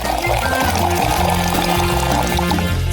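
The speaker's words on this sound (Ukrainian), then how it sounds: "Давай тепер нальємо воду до самої марлі." Water pours steadily into a bottle up to a gauze cover, the gurgling pitch rising as it fills, loud and close.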